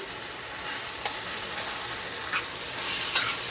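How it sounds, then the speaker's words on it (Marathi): Okra sautés in a pan with green chili paste and oil, making a constant close sizzle with occasional scraping stirs and small pops, alone without talk. "छान अशी परतून घेऊया भेंडीला"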